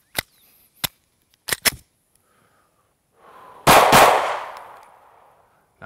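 Springfield XDS and Glock 43 handguns fired at a range: several sharp close gunshots, a quick single, a tight double, then a louder blast trailing into a decaying echo, no talking.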